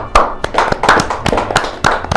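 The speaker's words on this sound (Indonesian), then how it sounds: "Tepuk tangan dong" A small audience claps in scattered, uneven bursts of separate hand claps, fairly close, with no talking over it.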